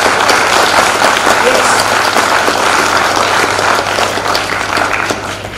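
An audience at a motivational speech event in Jammu and Kashmir applauds loudly, a dense, sustained clapping that tapers slightly toward the end, with a low hum underneath.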